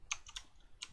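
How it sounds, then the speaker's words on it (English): Several light keystrokes on a computer keyboard, three or four quick soft clicks close by, with no voices. "what if I type in Hangman"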